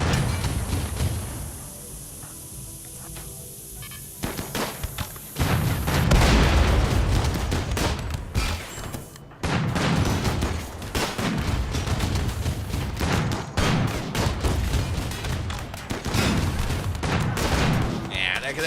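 Rapid video game gunfire in dense, overlapping bursts, loud and continuous for most of the stretch, with a brief lull partway through and a voice talking at times beneath the shooting.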